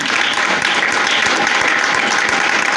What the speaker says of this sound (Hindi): अब जोरदार तालियां बजाएं